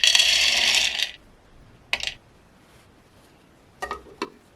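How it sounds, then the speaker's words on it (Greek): Roasted chickpeas are poured into a multi food processor with a loud, dense rattling rush of about a second, followed by a few brief, sharp clatters as the last pieces drop into the bowl. "Θα ρίξω τα στραγάλια στο μούλτι"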